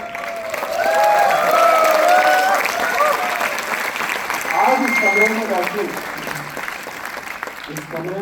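Room full of people at a motivational session clapping and cheering loudly and continuously, with voices shouting and talk mixed in.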